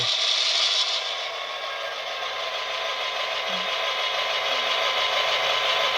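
Diesel engine sound from an MTH HO GP38-2 model locomotive with Proto Sound 3.0 rises steadily as the RPM notches up, a continuous droning hum with brief scraping noises near the start.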